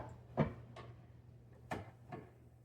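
A George Foreman grill lid pressed down over food for homemade takeout gives a few soft, quiet thumps and clacks, spaced well apart over a low steady hum.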